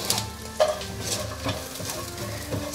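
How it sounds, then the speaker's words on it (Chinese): Red dates stir-fried in a pan with mushrooms, a steady sizzle running beneath repeated scraping strokes of a spatula, close and moderately loud with no voices. "稍微略炒一下"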